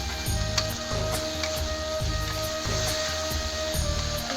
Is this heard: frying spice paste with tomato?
yes